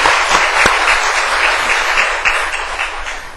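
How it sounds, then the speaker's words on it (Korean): Audience applause, a dense patter of many hands clapping at once, steady and fairly loud. "박수 한번"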